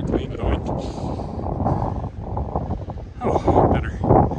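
Wind roars into the microphone during a November blizzard walk in Regina, a loud, gusting rush that swells and falls, with a person talking over it.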